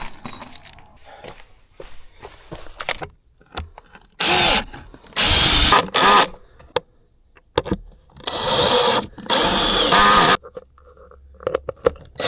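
A power drill whirs loudly in several long bursts, spinning up and cutting out, with quieter rustling and handling noises between runs.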